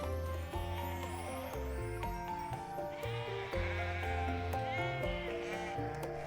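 Sheep bleat in the video game Love and Deepspace, several wavering calls layered over music and a low background, fairly close and without talk.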